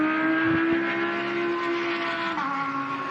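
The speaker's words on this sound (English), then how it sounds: "It's absolutely pin flat through there in a GT3 car." A GT3 race car flat out at about 275 km/h through a fast section at Bathurst, its engine a loud, steady high-pitched drone with a slight pitch shift near the end, close and continuous.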